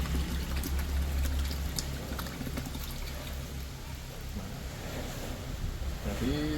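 Liquid sulfur-based fertilizer ingredient pours steadily into a bottle, a continuous rushing gurgle, close and even throughout, ending with a faint rising tone as the bottle fills.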